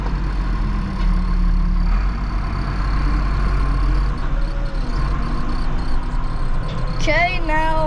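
A tractor engine rumbles and rises in pitch as it's revved while square baling hay, a steady low drone with shifting tones, ending with a burst of chirpy whistling sounds near the close.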